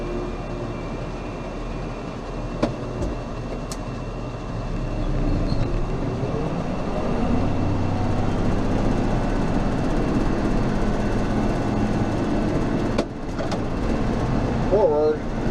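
Steady drone of a tractor engine running with its mower PTO engaged, a continuous mid-loud rumble with mechanical whine and a few knocks, a voice faintly under it.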